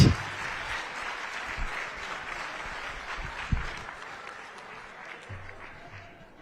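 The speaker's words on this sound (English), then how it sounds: "Another round of applause" Moderate applause from the audience at the 2021 Houston Humanitarian Awards honoring a Grammy-winning singer, holding steady and then thinning out toward the end.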